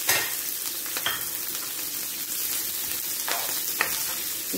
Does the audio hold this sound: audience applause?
no